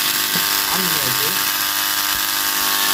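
A faulty contactor in a three-phase electrical distribution board gives off a loud, constant harsh electrical buzz, steady throughout, while someone talks over it.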